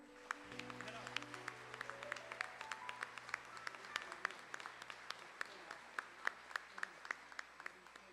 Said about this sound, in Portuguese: Vamos aplaudir ao Senhor?